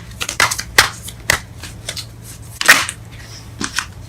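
Tarot cards shuffled and drawn during a love reading: a run of sharp papery snaps and flicks, with one louder slap near the middle, over a low steady hum.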